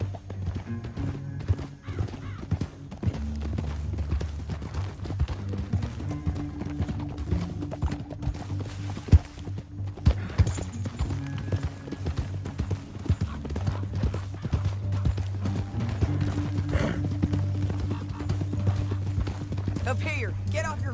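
Horse hooves clip-clop in a steady rhythm throughout the video game Red Dead Redemption 2, mixed with voices talking and background music.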